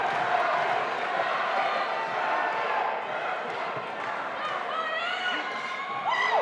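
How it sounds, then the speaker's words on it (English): A fight-night crowd yells and cheers steadily through the whole stretch, a dense roar of many voices with occasional sharper shouts and whistles near the end. "We got the crowd yelling"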